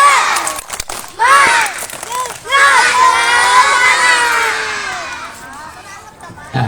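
A crowd of Indonesian elementary school children shouts and cheers loudly together during a fire and disaster safety session, with bursts of clapping, young voices overlapping in a lively, sustained roar.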